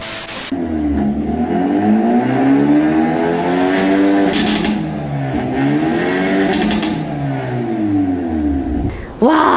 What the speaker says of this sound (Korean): 여러분 배기음 기가 막히지 않습니까?